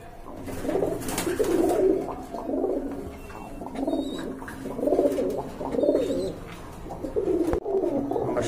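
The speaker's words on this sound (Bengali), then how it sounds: "মাশাআল্লাহ এখানে দেখতে পাচ্ছেন আরেক জোড়া কবুতর আছে, নাপ্তা কবুতর।" A pair of Napta pigeons coos close by in repeated throaty, rolling bursts, one after another with short pauses, with a few faint chirps in the background.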